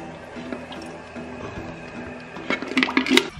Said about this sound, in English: Let's flush it to make sure it's clean.